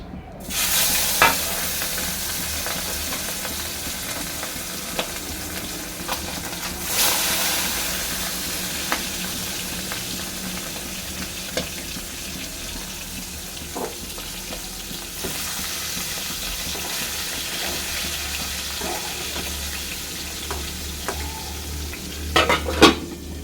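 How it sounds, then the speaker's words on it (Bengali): Live river tangra fish frying three pieces at a time in hot oil, a steady close sizzle running throughout with occasional scrapes and clinks of a utensil, brief louder bursts of spattering, and no talking. "আমি তিন পিস করে মাছ ভাজছি যাতে সুন্দরভাবে ভাজাটা হয়"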